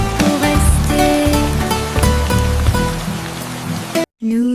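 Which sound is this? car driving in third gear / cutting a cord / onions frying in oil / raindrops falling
raindrops falling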